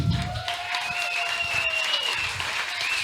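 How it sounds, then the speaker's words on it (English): An audience applauds guest Brittany Kaiser at a crypto meetup with steady, moderately loud clapping, while a thin sustained whistle-like tone drifts across the middle. "Let me get a round of applause for my guest, Ms. Brittany Kaiser."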